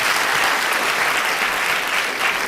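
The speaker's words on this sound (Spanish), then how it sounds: "recibamos con un fuerte voto de aplausos" Dense, loud applause fills a hall as an audience welcomes a professor at a technical and personal skills talk, a continuous even wash of many hands clapping at once, with no speech on top.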